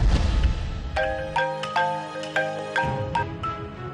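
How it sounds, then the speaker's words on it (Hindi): A telephone in a room rings with a repeated electronic melodic ringtone, bright tonal notes in bursts over a low background rumble, fairly clear and alone. "कमरे में लगे फोन की बेल बजने लगी"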